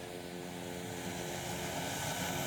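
A small propeller airplane drones steadily in flight, a continuous engine hum that grows slightly louder with no talking.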